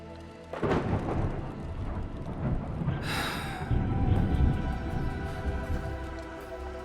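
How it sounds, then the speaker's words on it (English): A rainstorm with rolling thunder in the video game Arknights: Endfield: a steady, heavy wash of rain builds into loud, deep rumbles and a sharp crack midway, continuing without speech. "The sky is heavy with rain clouds. This weather is most fickle."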